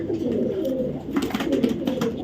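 Racing pigeons coo close by, overlapping soft throaty calls rolling continuously with faint rustling underneath.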